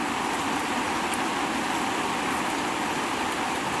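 Steady rain falls in a continuous broadband hiss with no gaps, even and fairly close, with no voices.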